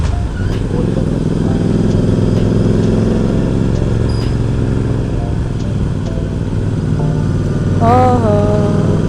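Motorcycle engine drones steadily and close throughout a ride, with wind rumble, someone talking over it and a brief horn-like tone near the end.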